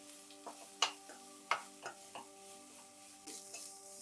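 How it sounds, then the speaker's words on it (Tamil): Rice with curry leaves stirred in oil in a pan on low heat: a faint soft sizzle with several sharp clinks and scrapes of a spoon against the pan, quiet and close. "போட்டுட்டு நல்லா சிம்மில் வச்சுட்டு கிளறி விட்டுருங்க"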